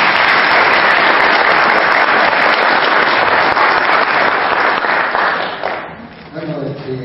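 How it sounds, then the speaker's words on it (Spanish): An audience at a talk on the 1970s guerrilla movement breaks into loud, sustained applause that fills the room, then thins and fades as a voice begins speaking near the end. "Le damos un aplauso, le damos un aplauso."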